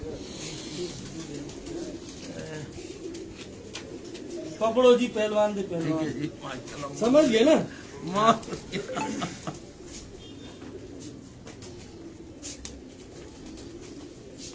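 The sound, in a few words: Sindhi pigeons cooing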